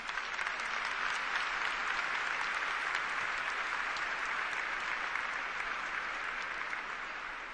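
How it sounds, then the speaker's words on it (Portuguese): A church congregation applauds at Mass, a dense, even wash of clapping from a large crowd that holds steady throughout with no speech over it. "Vamos aplaudir essa palavra."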